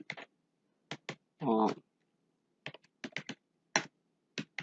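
Python code typed on a computer keyboard, scattered bursts of crisp, close keystrokes separated by silences, with a brief spoken sound in between.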